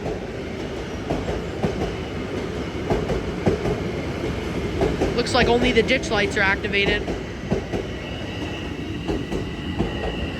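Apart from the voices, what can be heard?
LIRR train 1072 with M3 cars pulling in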